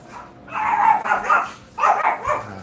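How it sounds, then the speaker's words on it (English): A pet dog barks in two short bursts of loud, close barking indoors during a live stream. "Sorry, my dog's going crazy."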